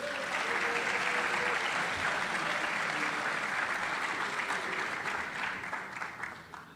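Sustained audience applause fills an awards ceremony hall, steady and dense from start to finish before gradually thinning toward the end.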